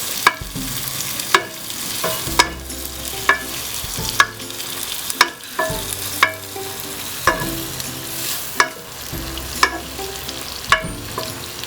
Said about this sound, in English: So you fry your onions.